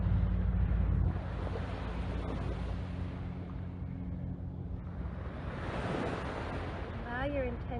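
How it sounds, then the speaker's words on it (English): Ocean waves wash onto the shore at Olowalu, Maui, a steady broadband surf roar with soft swells, mixed with some wind noise; a brief voice-like sound rises near the end. "Listen to the sound of the waves."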